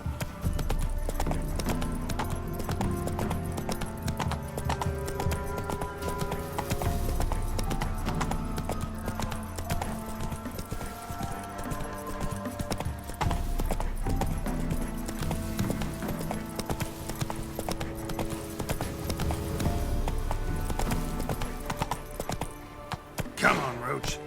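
Hooves of Roach, the horse in The Witcher 3, clip-clop steadily across the ground over layered game music, with a brief voice partway through.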